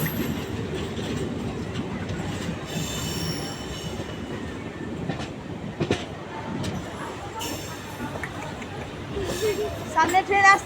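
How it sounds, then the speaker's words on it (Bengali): A train rolls through a railway crossing in hilly country, its wheels squealing and clattering on the rails in a steady, moderately loud rumble with sharp metallic screeches near the end, while people talk over it. "সামনে ট্রেন আসছে, ওই তো না, লাইন ক্রস করছে ওই জন্য।"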